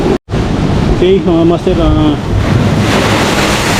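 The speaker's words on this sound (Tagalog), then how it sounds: "grabe lakas ng alon" Strong sea waves and wind roar loudly and steadily at an ocean fishing spot, with someone speaking over the surf.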